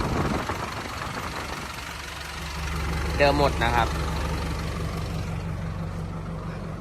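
A ten-wheeler diesel truck engine idles with a steady low rumble, while someone talks over it nearby.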